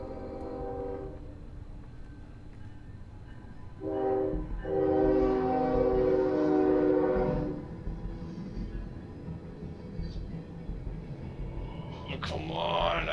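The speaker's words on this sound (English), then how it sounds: "Upon hearing the incoming train" An incoming train rumbles past, its horn sounding in two long blasts over the steady roll of the cars, fairly close and loud against low background noise.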